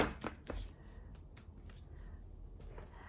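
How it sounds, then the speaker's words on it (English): Tarot cards being shuffled by hand, a few quick riffling bursts near the start followed by soft, quieter card rustling, close and without speech. "One more shuffle."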